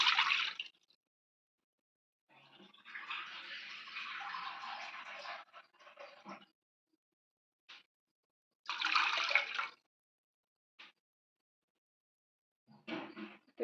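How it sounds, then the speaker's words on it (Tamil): Two cups of water go into a cooking pot for semiya kesari (vermicelli sweet), poured close by in several splashy bursts separated by short silences, with no talking. "இப்போ நம்ம அதே பாத்திரத்தில் தண்ணி 2 கப் ஊற்றிக்கலாம்."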